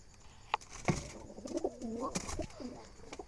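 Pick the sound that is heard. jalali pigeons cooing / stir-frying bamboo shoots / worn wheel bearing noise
jalali pigeons cooing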